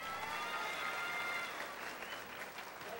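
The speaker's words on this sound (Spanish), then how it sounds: "Aplauso para la señora número 2." An audience claps for contestant number two at a dance contest, a soft but steady patter of many hands that fades slightly toward the end, heard alone without talk.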